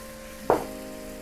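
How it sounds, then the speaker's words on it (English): Red wine poured into a hot pan of sizzling shiitake mushrooms, with one sudden loud hiss that rises over a steady low frying sizzle and then settles back. "I'm gonna go ahead and add my red wine."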